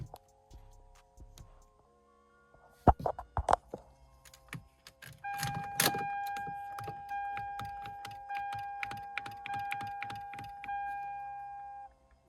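A failing car power window motor strains and whines as the glass moves slowly, preceded by a few sharp clicks and knocks, close up and without speech.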